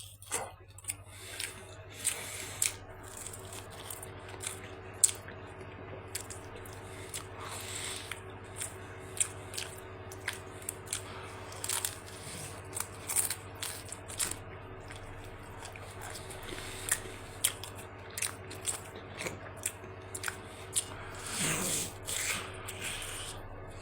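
Someone bites and chews crispy, well-baked special pizza close up, with irregular crunches and soft mouth noises spread over a steady low background hum.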